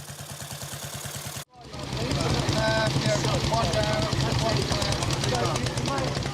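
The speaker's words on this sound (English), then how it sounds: "This is my good self riding a BSA 500cc sloper a few years ago" A BSA 500cc sloper single-cylinder motorcycle thumps along while being ridden, a steady low engine note that cuts out briefly, then returns under wind rush and road noise.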